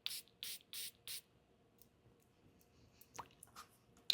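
Four quick hissing sprays from a perfume bottle (Dua Brand clone fragrance) in a steady rhythm, then quiet with a few faint clicks and taps.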